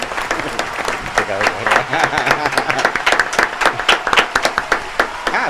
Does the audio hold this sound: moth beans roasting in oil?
no